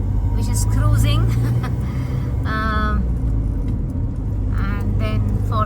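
A Toyota Land Cruiser cruises along a highway with other cars driving past, a steady close road rumble under speech throughout, with brief horn-like tones rising over it.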